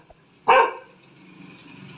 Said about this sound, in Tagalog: Maingay aso.